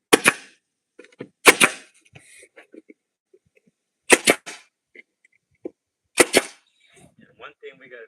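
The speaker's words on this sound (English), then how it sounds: "What I'm going to do is I'm going to drive a staple." Staple gun firing staples into a wooden refrigerator cabinet door gives sharp, loud single snaps, several spaced apart, with light handling noises between shots.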